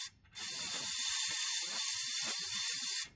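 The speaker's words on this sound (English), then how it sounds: "Just your basic little air compressor tool" A small air compressor tool blasts air into a propane smoker burner, giving one loud, steady hiss lasting nearly three seconds that starts and stops abruptly, close up, with no talk.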